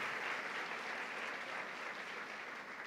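Loud, steady applause fills a church as the congregation claps continuously throughout, a thick wash of many hands with no pauses and no voices on top.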